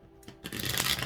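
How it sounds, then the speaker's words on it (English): Tarot cards are given a hard shuffle, starting with a light riffle and building into a dense, continuous flutter of card edges, close and fairly loud with no talking. "I'm going hard shuffle now for you guys"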